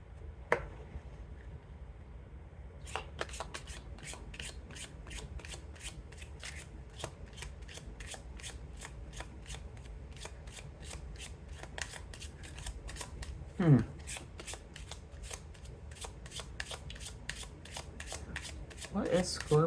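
Tarot cards being shuffled in a long run of crisp, rapid riffling clicks that carry on steadily for most of the stretch, close by, with a voice speaking faintly underneath.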